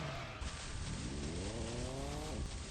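Car engine revving and tires squealing in the Japanese Vita game Kamen Rider Battride War Genesis, a steady loud drone with rising and falling pitch sweeps as the car drives and launches off a jump.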